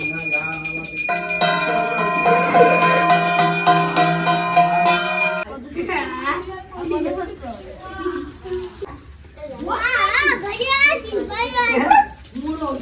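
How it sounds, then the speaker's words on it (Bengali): A kansa bell-metal gong rings steadily during a household Saraswati puja, its sustained metallic tones filling the first half before cutting off, followed by close voices talking. "কাঁসা বাজাও, কাঁসা বাজাও।"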